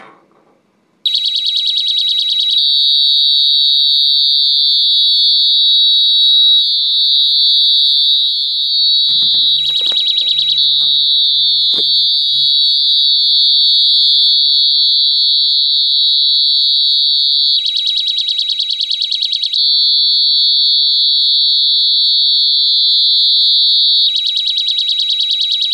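A Gas Alert Micro 5 PID gas detector shrieks a loud, continuous high-pitched alarm tone during a bump test with gas from a stove burner, with brief pulsing changes and a short low beep partway through.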